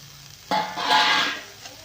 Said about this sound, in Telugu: మిక్స్ చేసుకొని ఫ్రై చేసుకోండి బాగా.